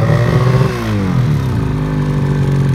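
An engine revs up and drops back to a steady running drone, loud and close. It is a warming-up snowmobile, either a Ski-Doo Summit 850 or a Kia.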